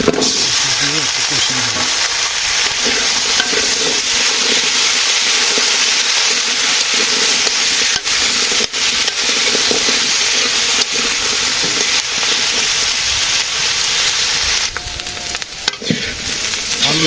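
Potatoes frying in a pan, sounding as a loud, constant sizzle with bursts of stirring and clattering from a utensil, and a voice speaking over the hissing.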